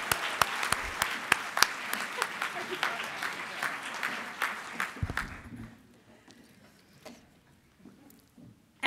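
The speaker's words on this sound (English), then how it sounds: "Can we give her an extra round of applause?" Audience applause at a September 11th memorial ceremony, steady clapping for about five seconds that then fades into a quieter room with scattered claps.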